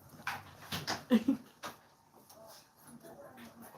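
A dog in a shop whimpers and yips in a few short, fairly close bursts, with faint background noises trailing off afterward.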